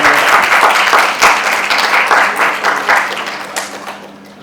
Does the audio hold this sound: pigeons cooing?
no